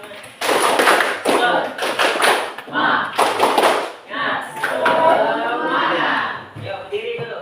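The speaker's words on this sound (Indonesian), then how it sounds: "Tepuk semangat." Tepuk semangat, a rhythmic group clapping chant led in a classroom before a lesson, with bursts of patterned claps alternating with voices calling out throughout.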